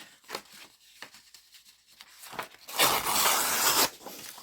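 Page of a Little Golden Book being torn by hand, a brief rough ripping burst near the end following a few soft papery rustles and handling noises.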